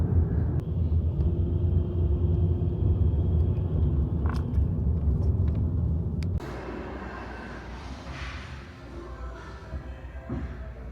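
A car's engine rumbles low and steady from inside the cabin while driving, loud at first, then quieter and smoother after a sudden drop partway through, with a few faint clicks and thumps.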